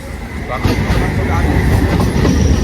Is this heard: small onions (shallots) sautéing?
no